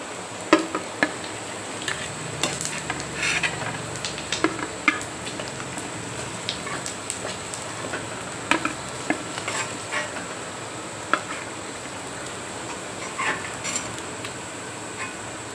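Murrel fish pieces fry village style in hot oil, a steady soft sizzle under scattered clicks and scrapes of a utensil turning them in the pan, with no voices.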